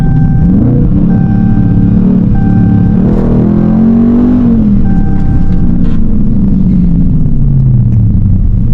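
A Dodge 392 Scat Pack V8 accelerates hard in track mode with a loud, deep, close rumble. The revs climb, peak and then sag away in a long, continuous roar.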